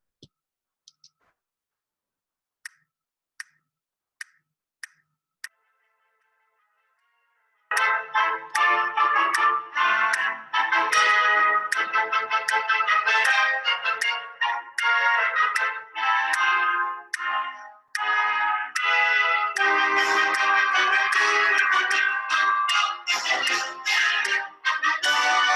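SmartMusic accompaniment playing back at tempo 162: a few sparse metronome-like clicks, then from about eight seconds a full, loud, continuous musical texture that runs steadily to the end.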